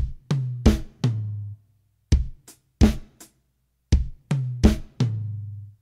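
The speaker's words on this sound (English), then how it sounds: "Same beat, but on the toms." Tom drums play a simple beat of upbeat hits across tom 1 and tom 2, with a kick-like low thump under some strikes; sharp, close, resonant hits in short groups with gaps, no talking.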